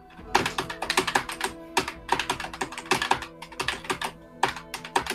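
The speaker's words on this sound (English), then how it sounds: "Time for keyboard noises to be in the recording." Rapid bursts of computer keyboard typing, close and fairly loud, in uneven clusters of keystrokes separated by short pauses, with no talking.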